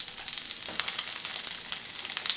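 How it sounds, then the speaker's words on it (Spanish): Vegetables sizzle and fry in a pan over low heat for a meat and potato gratin stew, a steady crackling hiss with no voices. "Y el sartén, como escuchan, yo ya lo tengo prendido."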